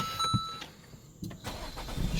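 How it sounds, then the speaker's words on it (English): A 2018 Renault Koleos all-wheel-drive SUV cranks briefly and its engine catches, settling into a quiet idle with a second rise in engine noise near the end; no talking. "I better start the car, it's so warm."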